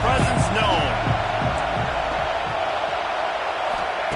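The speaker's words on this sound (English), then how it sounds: "This crowd ready to make its presence known." A packed football stadium crowd roars in a steady, dense wash of noise throughout, with a commentator talking over it.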